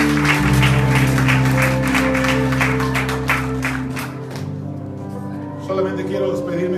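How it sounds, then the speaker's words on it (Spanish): A church congregation applauds in praise, sustained clapping mixed with music and voices, loud and dense before thinning toward the end. "Den un aplauso al Señor."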